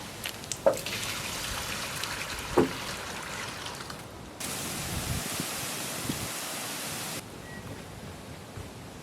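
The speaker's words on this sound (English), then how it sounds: "first thing I want to do is pour some water in here so you guys can see the leak" Water is poured into a leaking kayak, giving a soft, steady trickling hiss with a couple of brief knocks, changing in level partway through as the flow shifts.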